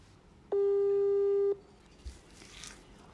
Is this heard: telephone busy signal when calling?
yes